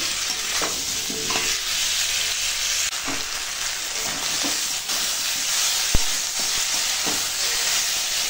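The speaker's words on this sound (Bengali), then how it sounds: "সোয়াবিনটাও বেশ একটু ভাজা ভাজা হয়ে যাবে।" A curry of soybean chunks, potato, tomato and fried onion sizzling in a pan while being stirred, a continuous close frying hiss broken by scraping stirs and one sharp knock of the spoon, with no talking.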